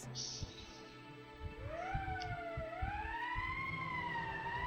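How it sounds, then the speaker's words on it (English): Emergency siren from the video game Valkyria Chronicles, a steady wailing tone that rises and falls in long sweeps, sounding continuously over a low rumbling background. "That's the emergency siren."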